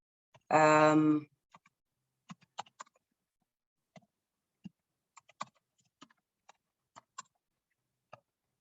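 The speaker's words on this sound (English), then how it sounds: "Let me type an address here." Scattered single keystrokes tap on a computer keyboard as an email address is typed, quiet and close, with uneven gaps between clicks after a short burst of speech at the start.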